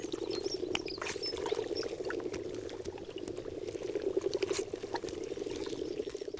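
Hundreds of frogs calling together at a mountain lake in the Tatra Mountains, a dense, steady chorus of croaking and trilling that runs throughout at moderate distance, with faint splashy patter and no voices.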